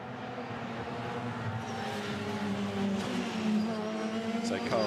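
BRDC British F3 Championship single-seater race cars driving on track, a steady engine drone with a rising whine as cars pass, commentary voice running over it throughout.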